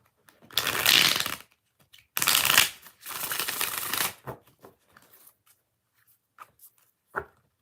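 A tarot card deck being shuffled up close in three long riffling bursts, followed by softer scattered taps and shuffles of the cards.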